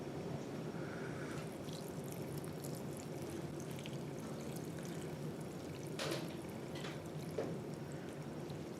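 Soda ash solution, two teaspoons dissolved in two cups of warm water, is poured onto tie-dye fabric, a steady close splashing and trickling stream with occasional drips and no talk.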